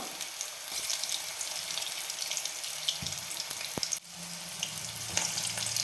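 Soya pakoda fritters frying in hot oil, giving a steady, dense hiss that runs throughout with a few faint clicks and one brief dip, close and continuous with no voices.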